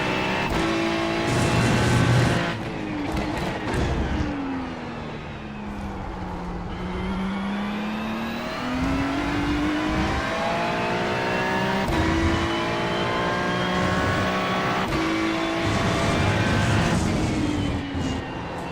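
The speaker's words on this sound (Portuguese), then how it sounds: "O Mustang tá andando bem aqui." Ford Mustang engine in a racing video game, droning steadily throughout with pitch rising and falling through gear changes, loud and continuous with no talk.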